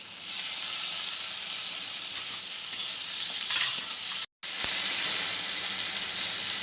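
Chopped green chillies and tomato frying with spices in a pan, giving a loud, steady sizzle and hiss with soft stirring scrapes, broken by one brief silence before the frying carries on.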